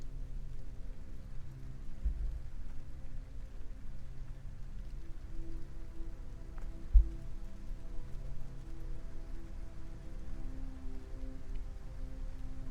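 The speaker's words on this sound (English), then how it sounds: "Oh, it's actually raining right now." Steady rain ambience in the video game Kerbal Space Program, a constant soft hiss of falling drops with one brief low thump partway through and no voices.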